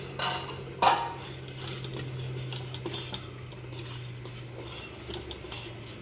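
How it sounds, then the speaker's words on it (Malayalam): A spoon stirring tomato rice in a pot, with two sharp metallic knocks near the start and then soft scraping and clinks over a low bubbling hum, close by and without voices. "നല്ലോണം തിളച്ചിട്ടുണ്ട് കേട്ടോ. നമുക്കൊന്ന് ഇളക്കി നോക്കാം."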